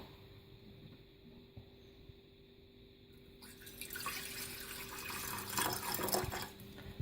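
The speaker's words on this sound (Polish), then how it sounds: "To wszystko zalewamy wodą" Water pours from a tap over a cayenne pepper mixture in a home kitchen, a faint hum giving way to a steady splashing gush that grows louder in the second half.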